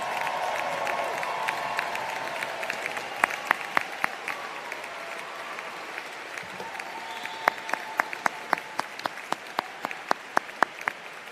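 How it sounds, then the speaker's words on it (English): An audience applauds bachelor's degree recipients at the Manhattan School of Music's 93rd commencement ceremony, a steady wash of clapping from a large crowd with crisp individual claps popping out near the end. "So let's have another round of applause for our bachelor's degree recipients."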